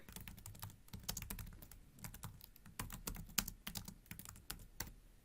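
Quick, irregular bursts of typing on a computer keyboard, soft close clicks and clacks in short runs with brief pauses, heard alone in a quiet room.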